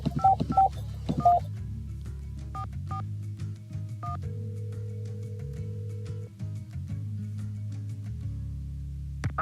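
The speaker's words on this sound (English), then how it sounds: "Let's call Franklin" Telephone dialing tones in a Nancy Drew video game: a quick series of clear keypad beeps at the start, then a steady tone and faint line hum.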